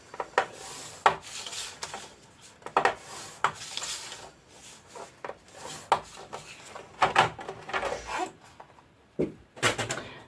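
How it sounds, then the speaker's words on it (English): A scoring tool drags along 9 by 9 inch cardstock, scoring lines at 3 inches on all four sides for a gift box, producing quiet scratchy rubbing strokes in irregular bursts with brief pauses between them. "I'm going to score at 3 inches on all four sides."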